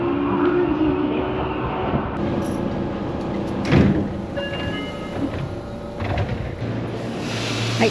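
A Seibu Tamako Line commuter train slows and halts at OmeKaido Station in Tokyo; brakes squeal faintly, a door chime sounds, and doors slide amid platform background noise.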